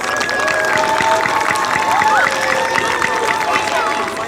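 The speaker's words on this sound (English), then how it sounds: "let's give all of our 4th through 6th graders a round of applause" Students and families applaud and cheer for 4th through 6th graders at a school awards assembly, a steady crowd noise with clapping and some voices mixed in throughout.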